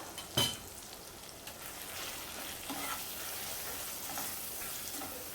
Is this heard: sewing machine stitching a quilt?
no